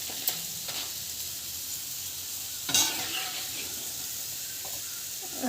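Food sautéed and stirred in a pan, a quiet continuous sizzle and hiss with a few brief scrapes of stirring, close and without talk.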